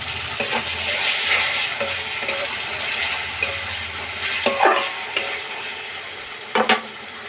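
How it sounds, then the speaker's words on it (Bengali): Ginger paste fries with boiled tomatoes in a pan, a steady soft sizzle broken by scraping stir strokes and a few sharper clinks of the spoon, with no voices. "এবার দিয়ে দেবো আদা বাটা"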